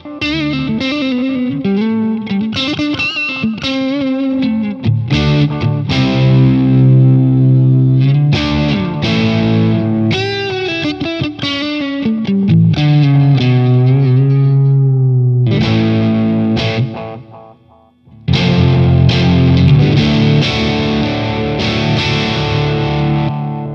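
An electric guitar runs through a Gokko GK-60 Salem Boost pedal with delay into a Katana amp, playing a meaty, bluesy lead with bends and sustained notes and echoing repeats, loud and continuous with one brief pause near the end.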